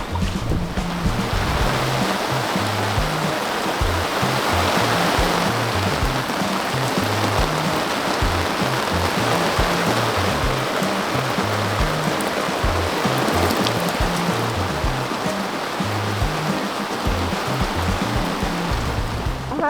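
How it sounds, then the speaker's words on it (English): Squall rain pouring down on a sailboat at sea, a dense, steady hiss and wash of heavy rain and water, loud and unbroken for the whole stretch with no voices. "I have a love-hate relationship with squalls."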